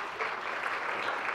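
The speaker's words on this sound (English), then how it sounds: "please give her a round of applause" Audience applause at a business talk on social selling as a speaker is welcomed to the stage, a steady, dense clapping from a crowd filling the whole moment without voices.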